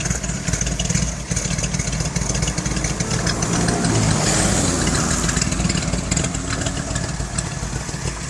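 Carbureted engine running steadily, a loud rough, throbbing idle with fluttering irregular pulses throughout and no voices.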